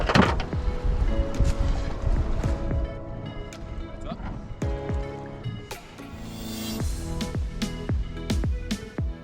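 A fishing boat runs back toward the dock after a pole-spear catch at sea, its steady motor drone mixed with wind buffeting and repeated knocking thumps from the hull over the water.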